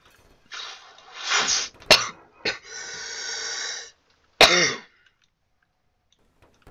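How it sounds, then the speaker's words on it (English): Several close coughs and throat-clearing bursts come one after another in short irregular fits, separated by brief quiet gaps, with no talking. "my coughs are just now starting to come back"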